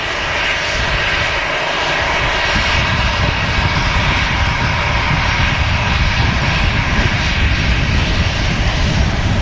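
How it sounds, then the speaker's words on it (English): An EasyJet jet airliner at Manchester Airport gives off a loud, steady engine roar that holds for the whole stretch, with no voices over it. "EasyJet looking beautiful in the sunshine."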